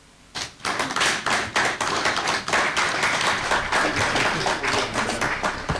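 Sustained applause from a crowd at an election commission event in Kinshasa, dense clapping starting abruptly and continuing steadily at full strength throughout.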